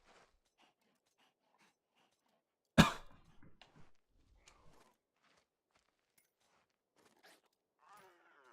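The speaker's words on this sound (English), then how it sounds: "can I stop coughing?" A single sharp, loud cough bursts out near the microphone in an otherwise quiet room, followed by a few softer throat sounds and faint shuffling.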